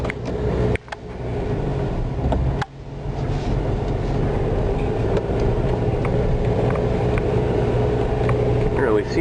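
A Buick running and driving slowly through light snow, a steady low engine drone under constant road and cabin rumble, broken by a couple of brief knocks, with some talk.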